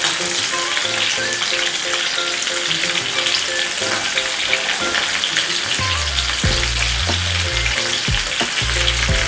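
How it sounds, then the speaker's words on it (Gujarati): Chopped onions sizzle steadily in a hot pan alongside garlic for homemade pizza sauce, a loud continuous frying hiss with occasional stirring scrapes, and no talking. "અને પછી નાખીશું એમાં કાંદા। અને આપણે થોડા થોડા સોતરવા દેશું।"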